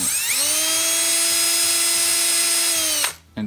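Small power drill running steadily at high speed during restoration of a Matchbox Lesney #66 Greyhound Bus die-cast model, a sustained whine that winds down abruptly near the end, loud and alone.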